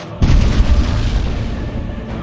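Heavy artillery fire in an Age of Empires 4 cutscene of the Hundred Years War, French cannon booming with a loud low thud that rolls into a sustained rumbling roar.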